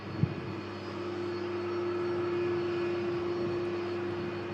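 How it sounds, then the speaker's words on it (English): An airliner arriving from Antalya touching down at an airport, heard as a steady, distant jet roar with a droning engine tone that swells slightly and holds throughout. "the next aircraft to touch down is the aircraft that brought me back from Antalya"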